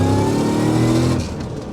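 A heavily modified Land Rover Defender roars loudly and close, its engine note held high, then dropping off sharply near the end as the revs fall away.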